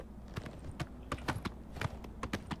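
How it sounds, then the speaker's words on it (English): A horse's hooves clip-clop in a steady, even gait while riding in the video game Oblivion Remastered, crisp separate hoofbeats at moderate volume with no talking. "you're going to get on your horse and ride it up to the very..."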